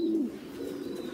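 A crossbred pigeon, Thai Titan crossed with an American Giant Runt, gives a single low, close coo, a soft throaty murmur against a quiet background.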